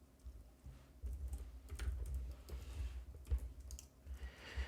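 Keys clatter steadily on a computer keyboard while editing several lines of HTML in a code editor, the soft clicks dense and continuous with no talk.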